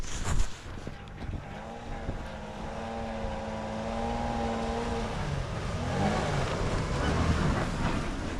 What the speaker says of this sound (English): now we'll see if the 4Runner will make it into the same grooves right here